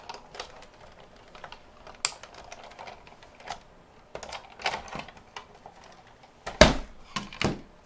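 A Big Shot die-cutting machine is cranked to cut a scallop circle from card, giving sparse clicking and rattling mechanical bursts with a louder clatter near the end, close by and with no talking.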